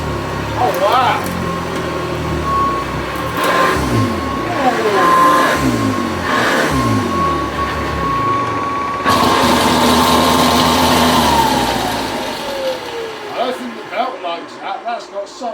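A 1980s Hoover Convertible U4173 upright vacuum cleaner runs with a steady whining motor tone that shifts in pitch, under almost constant close talk, then winds down near the end.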